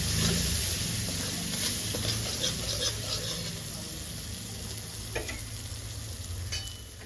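Masala of turmeric, dry chili powder and cumin with a splash of water sizzling and frying in a pan, a steady close crackle with occasional stirring scrapes throughout.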